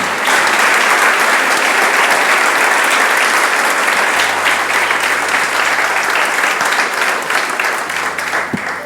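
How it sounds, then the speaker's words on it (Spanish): A large church congregation applauding loudly and continuously, a dense wash of claps holding steady throughout before easing slightly at the end. "Vamos, vamos. Aplaudir al Señor."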